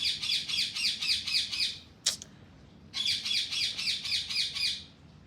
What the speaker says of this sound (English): I got 2 new parrots, and me and one of these parrots got beef